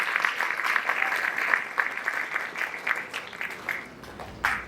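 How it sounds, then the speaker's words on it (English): Audience applause for spelling contestants at a school inter-house competition, a steady wash of many hands clapping that fades gradually and then swells briefly again at the end. "Can we give them another round of applause"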